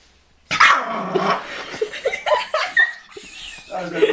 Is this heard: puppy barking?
yes